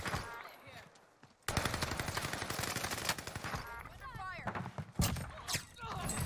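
Gunfire rattles in the video game Warzone: sustained automatic bursts and sharp single shots, loud and continuous, with a player talking over the shooting.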